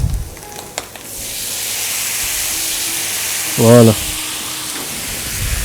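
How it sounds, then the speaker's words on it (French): White wine poured into a hot pan to deglaze it, a loud sustained sizzling hiss that swells and holds steady, close up, with a brief spoken word partway through. "on va les déglacer avec du vin blanc"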